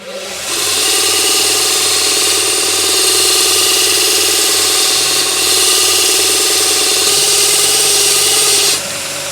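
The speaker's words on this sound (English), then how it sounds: "on this side of the machine over here, it's a linishing wheel." A linishing wheel on a golf club building machine runs steadily and loudly for about eight seconds, with a constant whirring motor drone and high-pitched grinding hiss. It spins up at the start and cuts off near the end, with no talk.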